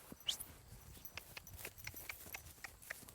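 A horse walks with quiet, evenly spaced hoofbeats, faint and a little distant, in a slow clip-clop rhythm with no voices.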